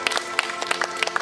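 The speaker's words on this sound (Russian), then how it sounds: "Поддержим ее аплодисментами." A small outdoor audience at a Pushkin Day poetry event in Atazhukinsky Park, Nalchik, claps in sparse, irregular bursts, thin and fairly close, with voices murmuring underneath.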